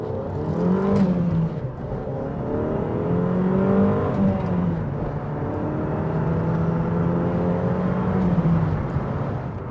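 Vauxhall Calibra Turbo 4x4 with a 200-horsepower turbocharged engine accelerating, a steady droning engine note rising in pitch through the gears, heard from inside the car with continuous road noise.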